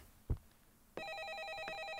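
An electronic telephone ring trills steadily in the horror video game A Favor, starting after a soft thump and continuing loud and close, alone with no talk.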